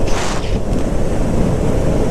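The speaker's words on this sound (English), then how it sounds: "That sounds so windy in this helmet." Steady, loud wind roar buffeting a motorcycle helmet on a ride toward the coast, a constant low rushing blast filling the whole stretch with no pauses.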